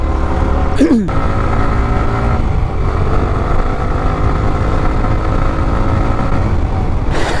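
A motorcycle engine runs steadily up close with a loud, even drone, and a brief vehicle pass or horn-like sweep sounds near the start.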